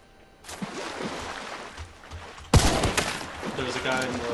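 Gunfire in the game Hunt: Showdown, a quiet scattered shot early on, then a loud sharp blast with echoing tail and further cracks, while voices talk over the action.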